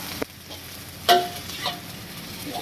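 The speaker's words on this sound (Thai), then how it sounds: "พริกแกงลงผัดไปเลยครับ" Curry paste stir-fried in a pan for an eel dish with holy basil-style leaves: a soft steady sizzle with a few scraping stirs and clinks of a utensil, fairly quiet, no voices.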